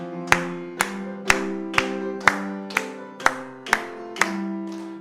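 Congregation at a Methodist church's Wednesday service clapping in steady unison to a hymn, about ten crisp evenly spaced claps over sustained singing and organ-like tones.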